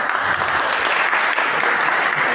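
Applause from an audience at a preparation meeting for counselors, a thick unbroken wash of many people clapping, loud and sustained from start to finish.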